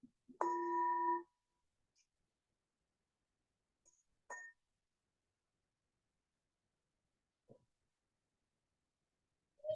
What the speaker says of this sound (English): And again, we'll let the bell transition us.